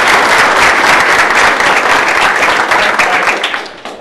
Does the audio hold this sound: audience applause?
yes